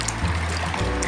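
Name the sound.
water rinsing feet in DIY foot spa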